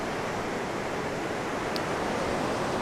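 Atlantic Ocean surf breaking on the coast of Uruguay, a steady broad wash of waves rushing without pause, fairly soft and distant, with no voices.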